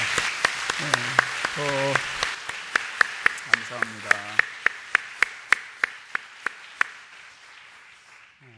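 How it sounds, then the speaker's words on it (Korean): Church congregation applauding in Korean services, a round of clapping for the elder men's mission groups that thins into slower, individual claps and fades, with a voice speaking over the start. "다 같이 박수로 한번 격려하겠습니다"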